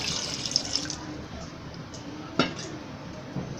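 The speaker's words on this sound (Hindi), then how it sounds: "अब हम इसमें डालेंगे पानी।" About a glass of water is poured into a pot of goat head (siri) curry after the meat has been fried. A close splashing pour fades out, followed by a sharp clink of the pot and a few small sloshes.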